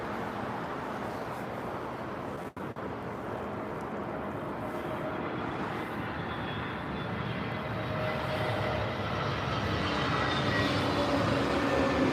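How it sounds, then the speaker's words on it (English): Aer Lingus Airbus A320neo jet from Dublin passing at London Heathrow, a steady broadband engine roar that slowly swells louder over the whole stretch, heard alone without talk. "Aer Lingus 320 Neo from Dublin"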